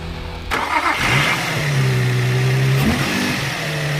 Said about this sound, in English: start the car.